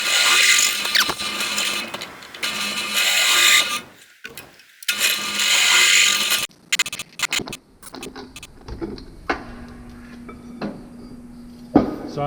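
A power drill bores clearance holes in a saw table build, with loud sustained whirring bursts that cut off abruptly, then quieter clicks, taps and handling noise as the work continues.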